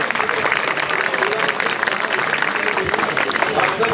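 An audience at a park opening ceremony claps for an award presentation, a steady loud patter of many hands sustained evenly from start to finish.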